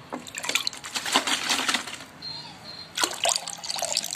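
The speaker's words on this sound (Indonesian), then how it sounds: "Kita tuangkan saja semuanya." A mixture of Yakult, rice-washing water and brown sugar water is poured into a container for homemade fermenting liquid, a close, steady splashing trickle that breaks off briefly midway and then resumes.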